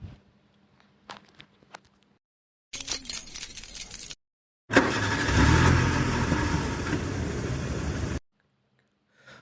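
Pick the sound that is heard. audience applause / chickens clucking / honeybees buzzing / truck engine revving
truck engine revving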